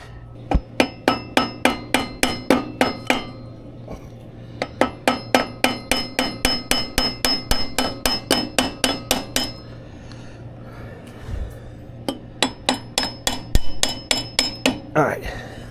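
A metal bar taps repeatedly on a Troy-Bilt lawn mower part, sharp ringing clanks in quick bursts of evenly spaced strikes separated by short pauses, close and clear with no talking.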